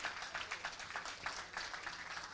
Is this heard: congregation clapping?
yes